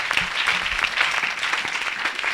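A church congregation at a night miracle service breaks into dense, continuous applause with cheering, loud and sustained throughout.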